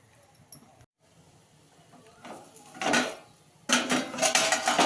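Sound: stirring garlic fenugreek vegetable in a pan

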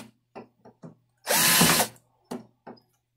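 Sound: cordless screwdriver spinning, attempting friction welding

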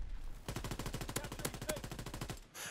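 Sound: gunshots in Call of Duty WWII video game

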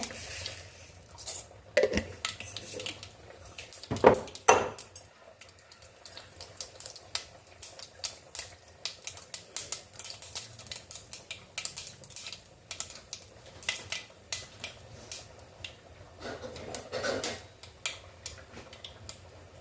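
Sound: mustard seeds spluttering in hot oil

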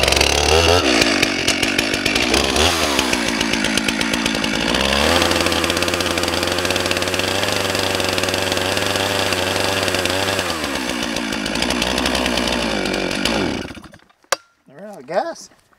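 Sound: chainsaw cutting wood

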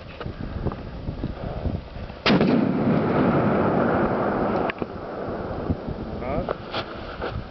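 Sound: gunfire

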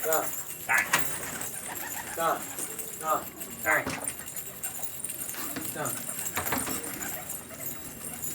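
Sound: homing pigeons cooing

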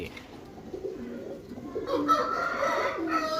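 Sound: female pigeon cooing

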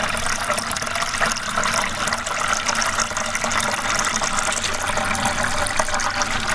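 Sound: water entering and filling a ram pump bucket intake

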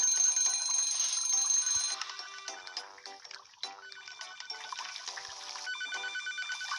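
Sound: telephone ringing in the video game Papa's Cluckeria To Go

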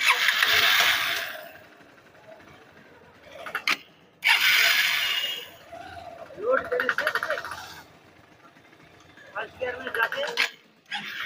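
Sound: motorcycle engine knocking noise

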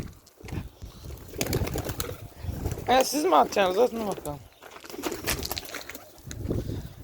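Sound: tumbler pigeons cooing and flapping

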